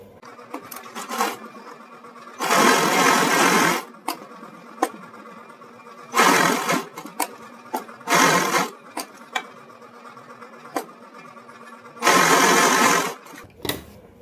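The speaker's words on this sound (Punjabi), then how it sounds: "ਇਹਦੇ ਉੱਪਰ ਆਪਾਂ ਕੱਚੀ ਸਲਾਈ ਲਾ ਦਾਂਗੇ" A sewing machine runs a basting stitch along a fabric neckline in three or four loud whirring bursts of a second or so each, separated by quieter handling clicks and rustles.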